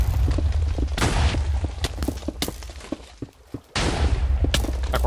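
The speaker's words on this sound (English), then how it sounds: "You're firing cannon, firing cannon." Cannons firing in the mobile strategy game Boom Beach during a competitive match: dense, loud rapid booms and gunfire-like bursts that drop into a brief near-silent gap before the barrage resumes.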